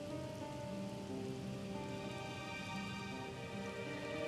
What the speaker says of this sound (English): I think it's rain.